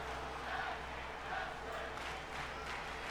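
A wrestling crowd in the WWE 2K23 video game roars and chants in a steady, dense wash of arena noise, with no distinct voices standing out above it.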